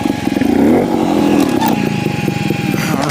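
A trials motorcycle engine revs up close and loud, burbling and rising in pitch during a riding workout, with some rattles and scrapes as the bike moves.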